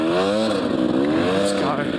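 A dirt motorcycle climbs sand dunes in second gear at Beachport, its engine droning loud and close with a rising and falling pitch. A rider talks over the engine noise.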